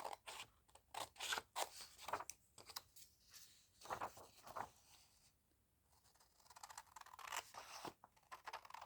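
Scissors cutting printable paper tags along an edge: close, crisp repeated snips and slicing rasps in uneven runs, with a short quiet pause midway before cutting resumes.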